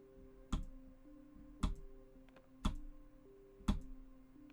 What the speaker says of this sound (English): You're hearing that, right? I'm clicking, but nothing's happening.